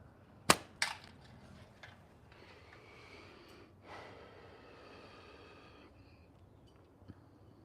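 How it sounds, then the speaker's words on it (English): Slingshot fired with big clay ammo in a video game: two sharp loud snaps early on, then quieter scattered thuds and a faint smack near the end, no talking. "This big giant clay is pretty fun to shoot."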